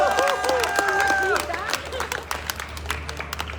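At a wedding-ceremony music performance, an audience claps and cheers for a drummer, scattered claps and crowd noise running under a sustained sung or played melodic line that fades, leaving sparse claps near the end.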